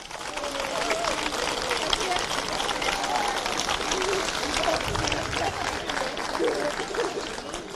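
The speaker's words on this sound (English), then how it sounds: "can I ask for a round of applause for them too?" A crowd applauds the match officials at an All-Ireland junior club camogie final, steady sustained clapping and cheering spread across a large audience, loud and continuous throughout.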